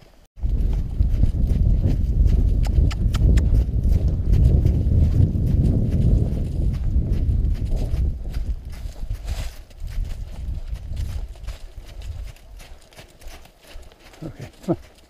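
A horse with possible Lyme disease moves loose without a rider, its hooves thudding in a steady loud rhythm that fades toward the end while a person calls out commands over it.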